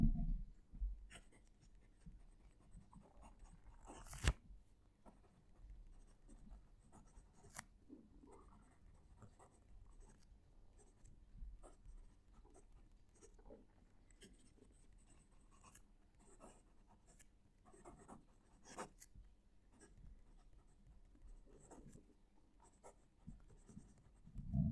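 A smooth fountain pen glides across paper with close-miked, faint scratching strokes in an irregular rhythm, a few sharper taps and pauses between them, heard alone in a quiet room without talk.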